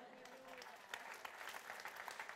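A church congregation claps in praise of the King of Kings, a fairly faint, steady patter of many hands continuing throughout without talk.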